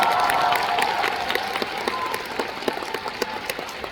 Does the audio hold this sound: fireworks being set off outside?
no